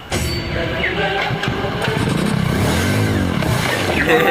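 A motorcycle engine turns over and settles into a loud, close idle, with the pitch rising and falling in short revs over the few seconds.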